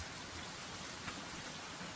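Rain falls steadily at night, a faint continuous hiss of drops with no distinct strikes and no voices.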